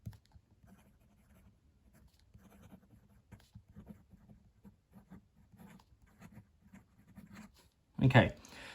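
A Noodler's Triple Tail flex fountain pen writes on paper with a faint, close scratching of short strokes, followed by a louder brief noise near the end.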